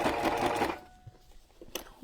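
A sewing machine stitches ribbon onto a junk journal cover in a short, close burst of mechanical whirring that stops after under a second, followed by quiet handling noises and a brief click.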